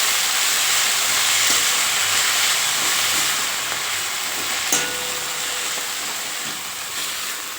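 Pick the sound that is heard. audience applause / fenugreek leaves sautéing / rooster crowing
fenugreek leaves sautéing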